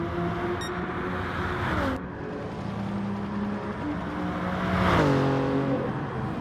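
Gr3 race car lapping Bathurst in a racing video game, a loud, close engine that rises through the revs, drops sharply on a gear change, then climbs and drops again with a whirring tone.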